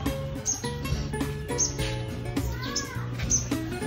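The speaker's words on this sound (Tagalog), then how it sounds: "Naririnig nyo ba ang ibon?" Small birds chirp outdoors in a garden where snake plants are being potted, with short bright tweets repeating about every second and a longer warbling call midway, under light background noise.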